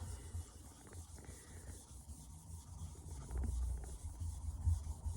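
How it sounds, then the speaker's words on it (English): Close, soft rubbing and scrubbing of a rust eraser against a Hatsukokoro knife blade, a continuous gritty friction that grows slightly louder toward the end. "The old rust eraser."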